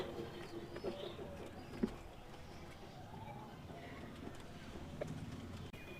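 A pigeon in its coop gives soft, low coos amid a quiet indoor room tone, with a single small knock partway through and faint scattered rustles.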